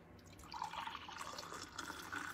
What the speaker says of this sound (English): pour our coffee into it